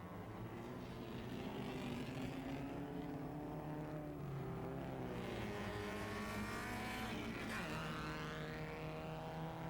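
Historic race cars pass on the Palm Springs street circuit, their engines droning steadily with rising and falling pitch as they go by, loud and continuous throughout.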